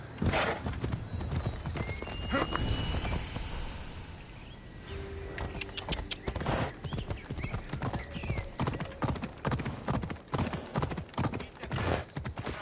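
Rhythmic clip-clop of horse hooves on a hard surface in the video game Assassin's Creed Odyssey, with a horse neighing early on; steady and fairly close, no talking.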